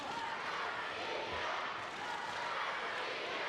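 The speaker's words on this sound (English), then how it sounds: "The crowd's getting amped up" Steady broadband crowd roar filling a judo arena during the men's under-80 kg Grand Prix final in Moscow, continuous and fairly loud with no clear peaks or individual voices standing out.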